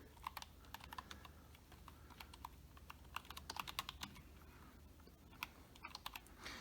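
Rapid clicking of keys on a Bluetooth wireless keyboard paired with an iPad, fast irregular taps at close range, faint over a low steady background hum.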